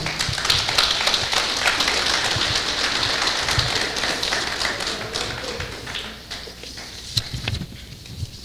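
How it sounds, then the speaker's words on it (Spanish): Applause from the audience at a live presentation of the Revista del Altiplano de Ciencias Básicas y Aplicadas, a dense crackle of many hands clapping that runs steadily and then thins toward the end. "Lo recibimos con un fuerte voto de aplausos."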